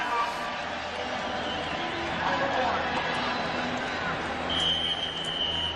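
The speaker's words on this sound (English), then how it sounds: "this crowd is loud" A dense roar of a large stadium crowd at a 1999 Cleveland at Pittsburgh football game at Three Rivers, steady and loud throughout with no break.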